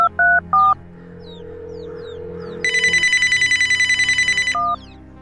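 Outgoing phone call: a few short dial tones, then a steady electronic ring-back tone that pulses rapidly for about two seconds before one last short beep, set against a quiet background.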